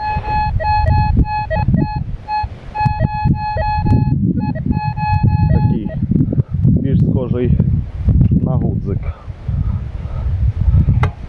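Fortune S metal detector in Ukrainian brush giving steady electronic beeping tones with harmonic overtones, repeating in pulses for the first six seconds, then fading into rustling and background noise.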